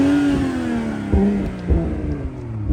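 A 2022 BMW M240i engine revs up and down in steady surges, loud and close, with brief throttle blips and no talking.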